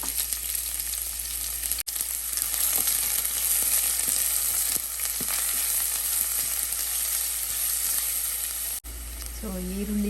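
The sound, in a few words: onion and curry leaves frying in a pan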